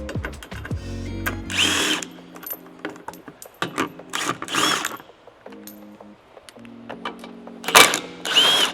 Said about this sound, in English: Using a 10mm socket, remove the 3 10mm bolts that are securing this plastic covering to the lower control arm.